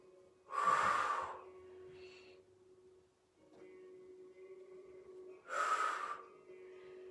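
Deep breathing during a lower ab exercise on the floor, two loud, close, gasping inhales about five seconds apart, with quieter airy breath between them.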